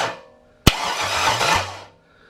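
A GM LS V8 mounted on an engine stand cranks over after a sharp click, the starter whirring for about a second before winding down, loud and close with no talk.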